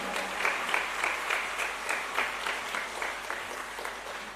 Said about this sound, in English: Let us give a big clap to them